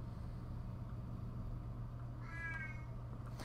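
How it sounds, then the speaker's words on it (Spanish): A domestic cat in the PlayStation game Silent Hill, played on hard difficulty, gives a short wavering meow partway through, heard over a steady low hum with no talking. "Así que hoy puede pasar el gato."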